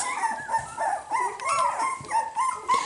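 A Cockapoo puppy in a farm litter gives a rapid string of high, squeaky yips and small barks, close and fairly loud, with whimpery breaks between them.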